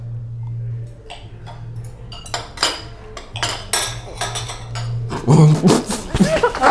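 Cutlery clinks and scrapes against dishes while pumpkin spice Spam is eaten, a series of sharp, irregular metallic taps up close, with voices and handling noise growing busier toward the end.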